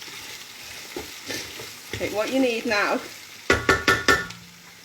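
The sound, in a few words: kofta meatballs sizzling and browning in aluminium pan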